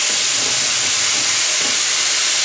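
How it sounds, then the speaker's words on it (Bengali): Water poured into a hot cooking pan on a medium flame gives a loud, steady hiss that continues alone without a break. "জল অ্যাড করছি।"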